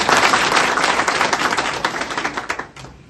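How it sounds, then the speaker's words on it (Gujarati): A burst of dense applause from a group, steady and fairly loud, thinning out and fading in the last half second. "તો એના માટે જોરદાર તાળી થઈ જાય દોસ્તો"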